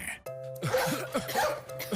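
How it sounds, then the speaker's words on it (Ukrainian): Several short coughs in a row in a Ukrainian TV commercial for cough medicine, close and fairly loud, over a steady low hum with some voice-like sounds mixed in. "Хто тут у нас кашляє?"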